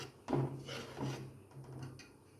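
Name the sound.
stirring thickening milk and sugar mixture in a pan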